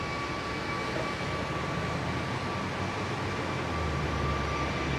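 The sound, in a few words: Airbus A320neo airliner at London Heathrow runway 27R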